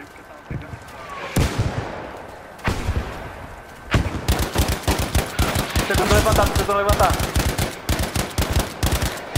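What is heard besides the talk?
gunfire in a video game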